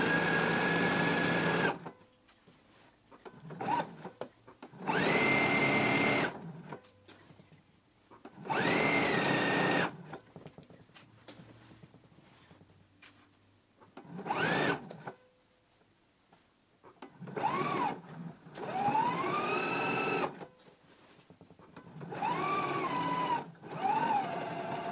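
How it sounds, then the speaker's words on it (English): A sewing machine stitches the center seam of a pair of pants in a series of separate bursts, each a steady whirring run that rises and settles, with quiet gaps between the runs. "So now we can go to the sewing machine and we can stitch our center seam all the way to this previous stitching"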